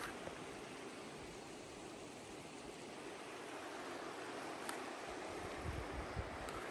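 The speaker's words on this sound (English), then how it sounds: "can see the river flowing" A river in the Bob Marshall Wilderness flowing steadily, a continuous soft wash of water heard from nearby, faint and even throughout with no voices.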